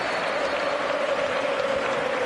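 Soccer players clap toward the fans after a match in Los Angeles, a dense steady patter of applause heard from a short distance, moderately faint with a crowd murmur beneath.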